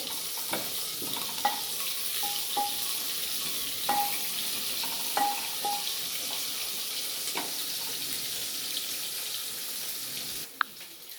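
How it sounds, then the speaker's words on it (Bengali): Continuous soft sizzle of onions frying in a pot for chicken curry, punctuated by scattered clinks and scrapes of a utensil, no voices. "এবার আমি পেঁয়াজগুলো দিয়ে দেবো, একটু পেঁয়াজগুলো একটু লালচে হয়ে ভেজে গেলে"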